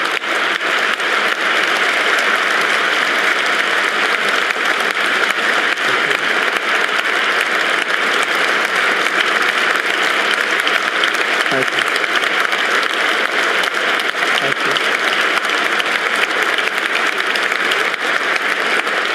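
Sustained applause from an audience at a speech, a dense, steady wash of clapping that holds at an even level from start to finish with no voices rising above it.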